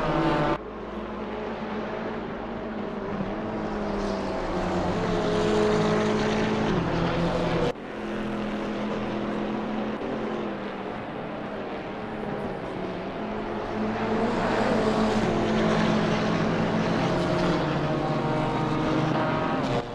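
Racing car engines from an Assetto Corsa Competizione GT4 European Series race at Zandvoort, a steady layered engine drone with gear-shift dips, a KTM among the cars, continuous and moderately loud throughout.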